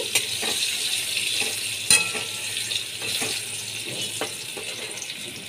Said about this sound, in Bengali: নুন হলুদ দিয়ে আমি ভালো করে আলুগুলো ভেজে নিচ্ছি